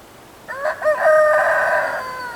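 Pet birds, rooster-like, crow once at an early-morning feeding in the snow, a single drawn-out harmonic call lasting over a second, fairly near and clear against a quiet background.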